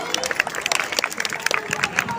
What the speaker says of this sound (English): Please clap for him, everyone.